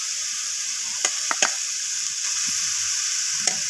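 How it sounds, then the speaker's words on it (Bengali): Fried cauliflower florets go into a simmering soybean curry in a pan, giving a steady bright sizzle with a few sharp knocks and scrapes of a spoon against the pan. "তো এবার আমি এখানে দিয়ে দেব ভেজে রাখা ফুলকপিগুলো।"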